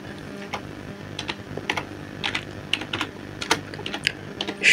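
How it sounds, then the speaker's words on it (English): Typing on a computer keyboard, a steady run of close, moderately loud key clicks at an uneven rhythm as a name is entered into an online form, with no talking. "Proposed name number 3. I will write Jose."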